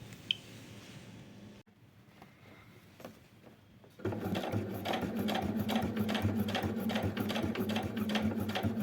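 A sewing machine topstitches about half a centimetre from the edge of a fabric beard bib. Brief soft handling sounds give way to a loud, steady, rapid stitching run that continues to the end.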